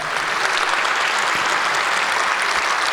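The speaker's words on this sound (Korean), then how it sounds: "박수를 2배 이상 크게 쳐주시면서 격려해 주시길 바랍니다" Audience applause at a church teachers' faith retreat in Korea: a full room clapping energetically, dense and even, loud and sustained with no voices over it.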